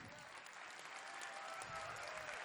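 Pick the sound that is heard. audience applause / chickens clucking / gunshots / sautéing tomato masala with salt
audience applause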